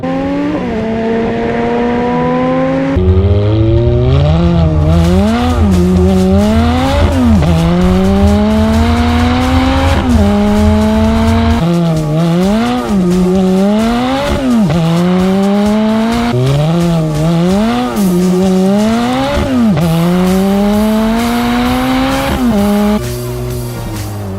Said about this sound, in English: In sport and race, the car makes plenty of power to induce oversteer and provide quite the lively experience.